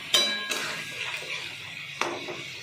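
Magur catfish curry with chopped chilli being sautéed in a pan, two loud metallic clanks of a utensil on the pan with a soft sizzle between them.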